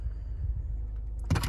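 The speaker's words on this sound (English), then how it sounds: "And then we have our power lift gate. Open that right up." A 2017 Land Rover Discovery Sport's power liftgate opens: a low, steady vehicle hum carries on, then a sudden short mechanical burst of motor and latch noise comes near the end.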